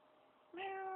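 A single rising meow starts abruptly and holds steady, close and clear in a quiet room; a person's voice imitates a cat's meow.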